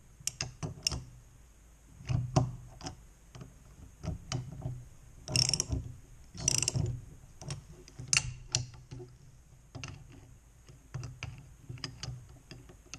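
A gear extractor being cranked on a Stihl BR600 4-mix leaf blower with a failed crank bearing gives off irregular ratcheting clicks and metallic ticks, close and moderately loud, in uneven bursts.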